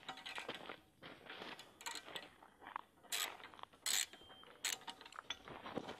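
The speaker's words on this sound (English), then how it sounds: "9/16 socket wrench." 9/16 socket wrench ratcheting to loosen bolts on a TacStrike Fat Boy steel target, short quiet bursts of clicking with a few louder metallic snaps, close and faint with no talk.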